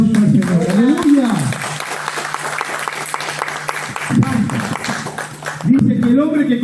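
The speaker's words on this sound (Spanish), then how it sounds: "Si querés dar un aplauso al Señor" A church congregation applauds for the Lord during a sermon, a thick burst of clapping in the middle, with a preacher's voice heard at the start and again at the end.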